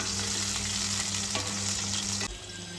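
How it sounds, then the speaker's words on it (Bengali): Eggplant pieces fry in hot oil with a dense, steady sizzle up close, a brief stir near the middle and a slight drop in intensity toward the end. "আলুটার মতো বেগুনটাও ভেজে নিচ্ছি"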